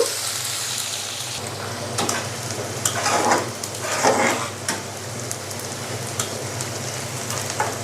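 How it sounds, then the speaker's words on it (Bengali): Chopped onion fries in a pan with a constant hissing sizzle that sounds a little like rain, with occasional louder stirring swells throughout. "পেঁয়াজ কুচি পেঁয়াজটাকে আমি প্রথমে ভেজে নেবো"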